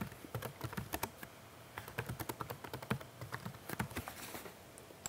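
Quick, quiet keystrokes on a computer keyboard as login credentials are entered, a steady close patter of taps in short bursts with brief pauses, no voice present.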